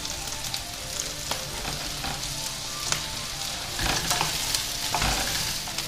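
Beef for Beijing beef sizzles and crackles as it is stir-fried in a pan, with a steady frying hiss and several sharper scrapes and clinks of a utensil, close and moderately loud, with no talk.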